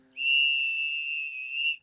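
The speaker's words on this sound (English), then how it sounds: "a referee whistle." A referee whistle, tried as a bear deterrent, gives one shrill, steady blast of nearly two seconds, close and loud, alone with no voices.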